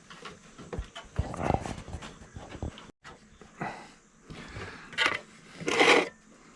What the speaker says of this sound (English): Back off, dog.